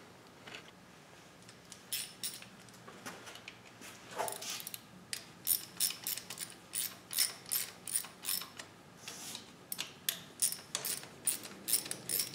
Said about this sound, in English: You don't need to watch me unscrew nuts.